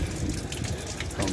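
Drinking water runs steadily from a public well tap in Dubrovnik's old town, a close, continuous splashing gush with no pauses.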